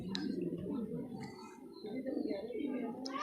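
A pigeon coos softly and repeatedly nearby, low throaty warbles rolling on with a faint chirp or two above.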